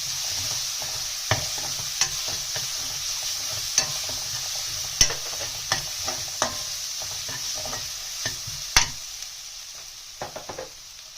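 Ginger garlic paste lightly frying in a pan, a continuous gentle sizzle overlaid by frequent clinks and scrapes of a spoon stirring it, close and fairly loud, with no talking.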